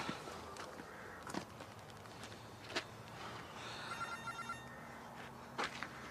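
A telephone rings repeatedly in the background of a quiet room, its trilling faint and intermittent amid light footsteps and soft handling noises.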